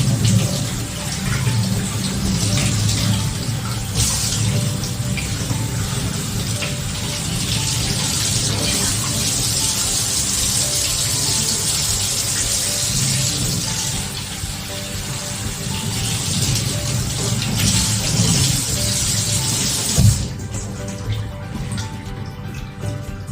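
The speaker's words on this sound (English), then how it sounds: "Once we've gathered our fresh nettles, we bring them inside to wash them thoroughly." Running water pours steadily over fresh stinging nettle leaves being rinsed indoors, a constant close hiss and splash with light leaf handling, cutting off near the end.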